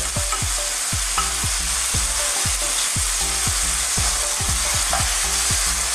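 Pork liver frying in a pan for Filipino menudo gives a loud, continuous sizzle, broken by regular scraping stirs that come in close, rhythmic bursts.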